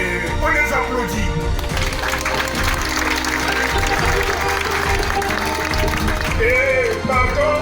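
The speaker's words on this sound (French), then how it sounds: "Et on les applaudit." An audience at a political party's general assembly claps for its youth members, loud, dense applause that carries steadily throughout.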